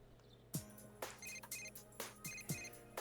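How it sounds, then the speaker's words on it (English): A phone rings in Persona 4 Golden with repeated electronic chirping bursts in a steady rhythm, clear and fairly close, with no talking over it. "I'm getting a phone call."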